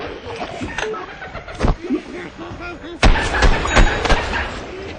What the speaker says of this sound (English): the scientist just threw his sticky explodey ball